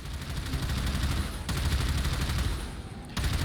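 Railjack ordnance firing in Warframe, a dense continuous barrage of rapid booming shots and explosions that runs loud and unbroken for the whole stretch, with a short dip in the middle.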